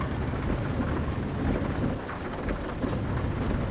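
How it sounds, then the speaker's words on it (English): Rain pours steadily in the Euro Truck Simulator 2 video game, a dense even hiss with low rolling thunder rumbling underneath throughout. "That rain just come down quick, didn't it?"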